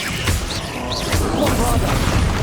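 Confringo fire spell blasts cast in combat in Hogwarts Legacy, loud bursty impacts repeating over dense battle noise, with no voices.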